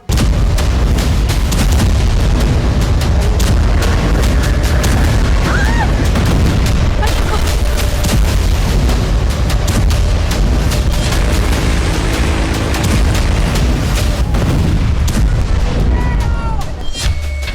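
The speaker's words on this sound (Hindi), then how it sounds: "धमाके कैराकास में हो रहे थे" Loud, continuous booming blasts and rumbling explosions in Caracas, Venezuela, dense and chaotic, with voices faintly mixed beneath the din.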